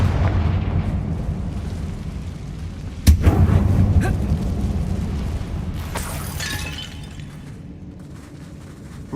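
A Confringo spell explosion in a wizarding video game: a sharp, loud blast cracks out and leaves a rumbling, crackling tail, followed a few seconds later by a second bright burst that fades over a low background drone.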